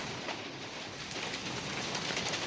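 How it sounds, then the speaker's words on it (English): Steady rain pours during a storm with fog and threatened hail, a dense continuous hiss of drops on surfaces, close and even, with no talking. "It's storming."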